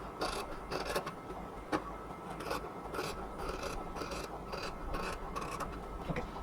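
Scissors snip and rasp steadily through cotton dress fabric around a stitched neckline, a close, continuous rough cutting sound with repeated brief strokes and no talking.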